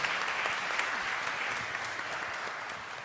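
Reunion alumni applaud at an evening event with Senator Raphael Warnock, the crowd's clapping forming a soft, continuous patter heard from a distance that slowly eases off toward the end.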